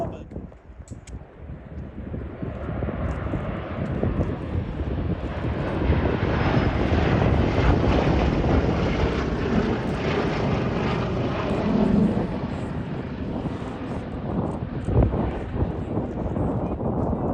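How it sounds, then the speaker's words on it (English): A propeller warbird trailing smoke roars past at an air show display, its engine drone swelling to a loud peak and then easing off, with wind buffeting the microphone. "here we see the aircraft flying past with smoke on to simulate a damaged"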